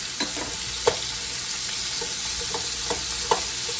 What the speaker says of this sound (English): I'm going to go ahead and start adding our peppers.